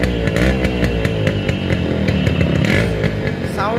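A Yamaha RX100 motorcycle idles and revs, its two-stroke engine giving a loud, rasping buzz that rises and falls with several quick throttle blips, close by.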